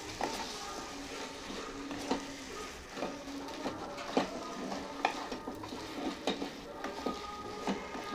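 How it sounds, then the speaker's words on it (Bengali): A spoon stirs a cabbage curry with a fish head in a pan. Soft, irregular scrapes and clinks sound over a faint, quiet sizzle. "দিয়ে আবার নাড়াচাড়া করে নেব।"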